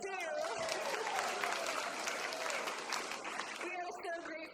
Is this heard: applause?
yes